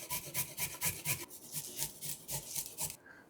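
Fresh ginger root rubbed against a grater for a spinach goat curry, giving a steady run of rhythmic rasping strokes, about a dozen in quick succession, close and fairly loud with no talk.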